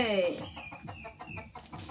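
Domestic hen clucking close by in a household yard, opening with a sharp squawk followed by a run of short rhythmic clucks.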